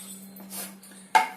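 A cooking bowl is picked up and set down in a home kitchen: soft handling noises, then one sharp clink close by near the end.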